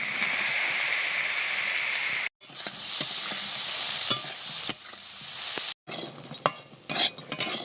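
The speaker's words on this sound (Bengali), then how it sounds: "ভিজানো সয়াবিনটা দিয়ে ভেজে নেব।" Soaked soybean chunks with salt and turmeric frying in white oil, a loud dense crackling sizzle with spatula scrapes and taps, broken by two short cuts, no voices.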